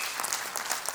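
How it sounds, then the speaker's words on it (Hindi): An audience at a large celebration event applauding, a dense burst of clapping from many hands, steady and fairly close, with no voices over it. "इस महामानव के लिए जोरदार तालियां"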